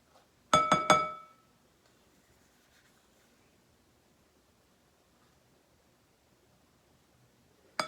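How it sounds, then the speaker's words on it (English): A spatula scrapes peanut butter out of a bowl in a few quick, close clinking strokes, followed by near silence and another short scrape at the end. "I'm gonna dump it out using my spatula"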